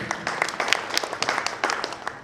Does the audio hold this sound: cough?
no